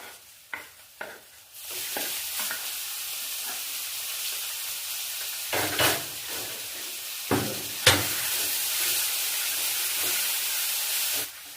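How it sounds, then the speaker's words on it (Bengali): Crushed cabbage dropped into a hot pan with a few opening clatters, then a loud steady frying hiss broken by occasional stirring scrapes. "দু মিনিট ধরে বেশ ভালো করে ভেজে নিয়েছি।"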